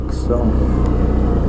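A Can-Am Outlander Max 650 XT ATV engine runs smoothly and quietly at a low crawl, a steady mid-pitched hum close by, with a brief spoken word at the start.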